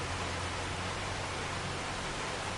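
Rain in the farming video game Farming Simulator 25 hisses as a steady, dense wash of broadband noise, constant and unbroken throughout.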